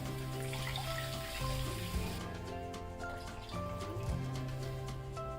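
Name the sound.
pouring water into a cooking pan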